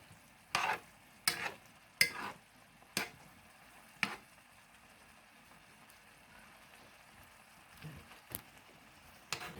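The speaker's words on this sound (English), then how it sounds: "we're just going to stir that up just a little bit, getting everything to start to move around a bit" Ingredients for Mediterranean capellini stirred in a pan: a handful of separate scraping knocks, a few close together early on and then sparse, over a faint background hiss with no talking.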